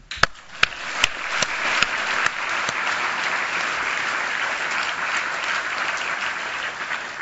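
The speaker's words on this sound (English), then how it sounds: "we could give a universal expression of appreciation by giving them a big applause" Audience at an award ceremony breaks into applause, starting with a few sharp individual claps that quickly build into sustained, dense clapping from a large crowd, steady and fairly close, with no speech over it.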